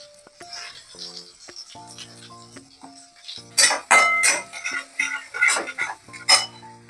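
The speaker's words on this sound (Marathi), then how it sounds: "तेल टाकलंय मोहरी टाकत आहे जिरं टाकलंय" Mustard seeds and cumin dropped into hot oil for a spiced potato dish, crackling and popping in loud bursts after a quieter stretch of clinks and kitchen tones.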